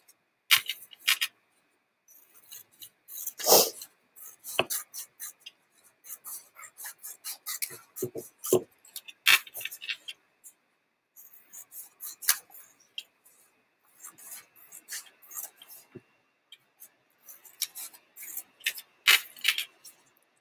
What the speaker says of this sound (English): So I'm going to cut each one out.